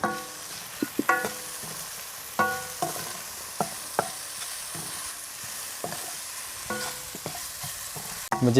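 Cinnamon, cardamom and a little salt sauté in a pan for a green peas curry, with soft frying under a series of sharp, irregular clinks and scrapes from stirring, fairly quiet and close, with no talk.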